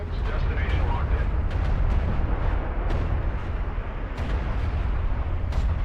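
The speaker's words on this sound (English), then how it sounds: "Nice artillery bombardment there" Artillery bombardment in the real-time strategy game Deserts of Kharak during a 1v1 match, a dense, continuous barrage of rumbling blasts and sharp impacts under a commentator's voice.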